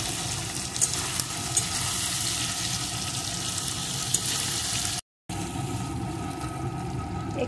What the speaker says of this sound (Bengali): এখন আরও কিছুক্ষণ ভেজে নেব।